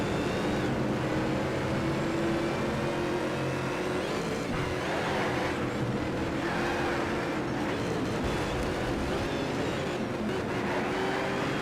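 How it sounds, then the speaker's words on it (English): A race car engine in Need for Speed Shift 2 roars steadily at high revs, with shifting pitch as the car accelerates and brakes through corners, loud and alone. "This car sounds funny"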